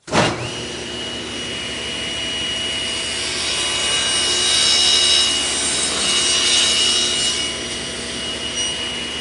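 Saw cutting wood for a picture frame on a table with a Microjig and clamps, one continuous loud whining cut running steadily for several seconds, close up with no talk.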